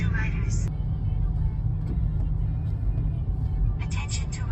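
Steady low rumble of city road traffic on Ortigas Extension, with engines idling and moving close by, broad and continuous throughout, a brief faint higher hiss near the start and end.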